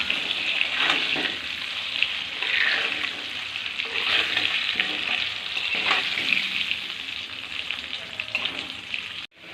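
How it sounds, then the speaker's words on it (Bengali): Potato pieces fry in oil seasoned with salt and turmeric over a medium gas flame, giving a continuous close sizzle with occasional stirring scrapes, no talk. "অল্প পরিমাণে লবণ, অল্প পরিমাণে হলুদ দিয়ে আলুটা লাল লাল করে ভেজে নেব।"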